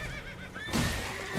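A horse neighs in the Elden Ring video game, a whinny rising briefly and then giving way to a loud, broad burst of noisy in-game action that fills the rest of the moment.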